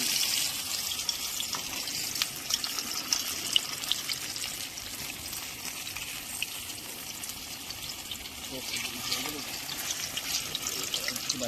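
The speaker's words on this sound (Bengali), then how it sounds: "তো বন্ধুরা, এবার আমরা রেডি হয়ে গেছি ফিশ ফ্রাই করার জন্য।" Fish sizzling in a frying pan at an outdoor campsite, a steady bright crackle of hot oil running without a break and mixed with light watery hiss.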